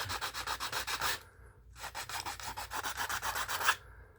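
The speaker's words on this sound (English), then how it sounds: "we're going to use a sanding block, and we're just going to kind of sand down the edges" A sanding block scrapes back and forth against the wooden edges of a model WW2 Pennsylvania passenger car in quick, even strokes, two runs of rhythmic rasping separated by a brief pause, close and fairly quiet.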